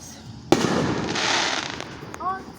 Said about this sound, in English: I told y'all it was a firework.